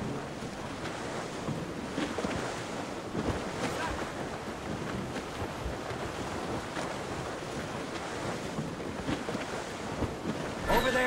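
A sailing ship moves under full sail at sea in Assassin's Creed Rogue. Steady wind, rushing water and waves wash along continuously at a moderate level, with scattered creaks and thumps.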